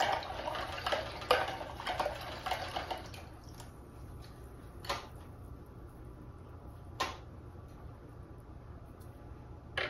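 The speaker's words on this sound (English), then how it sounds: "Okay, so rinse this brush out." A paintbrush swished in water while painting with acrylics, heard as soft watery sloshing and light clinks against the container early on, then thinning to faint drips and occasional taps, close and quiet.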